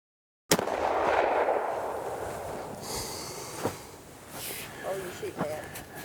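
A Kibler flintlock fowler, primed with 3F powder and loaded for squirrel hunting, fires a single loud, sharp shot outdoors that booms and rolls away, followed by quieter rustling and faint breathy sounds.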